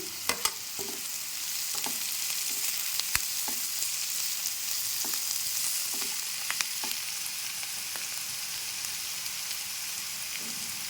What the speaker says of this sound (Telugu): కొంచెం ఉల్లిపాయలు వేగినాయండి కొద్దిగా వేగాక పచ్చిమిర్చి కూడా వేసుకోవాలి కరివేపాకు కూడా వేసుకోవాలి